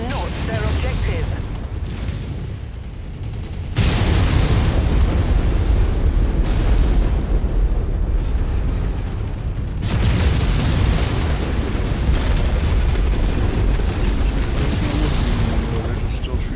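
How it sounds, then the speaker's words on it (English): Heavy explosions and gunfire roll through a video game city battle, a dense, loud and continuous rumble of booms and blasts with no clear gaps and no voices over it. "They're just still shooting up the city."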